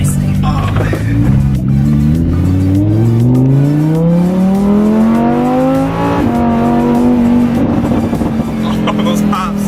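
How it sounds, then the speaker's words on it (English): Lamborghini engine revving hard through rising sweeps before a sharp downshift, loud and close as if right behind the seats, with an exhaust note that stays steady afterward; people talk over it. "That like exhaust sound like right behind you."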